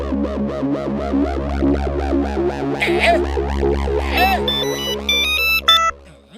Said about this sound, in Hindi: पप्पू सुपारी को फोन लगाओ